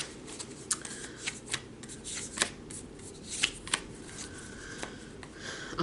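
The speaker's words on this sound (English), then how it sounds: "I already shuffled for Cancer." A deck of tarot cards is shuffled by hand nearby, giving soft, repeated riffling and sharp little slaps at an uneven pace, with no talking.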